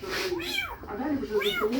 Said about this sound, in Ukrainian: Десь кіска забігла.